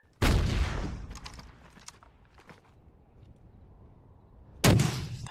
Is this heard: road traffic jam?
no